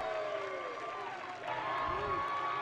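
Stadium crowd cheering at an ultimate frisbee game between the Dallas Roughnecks and San Diego Growlers, a steady broad roar that swells slightly near the end while a commentator talks over it.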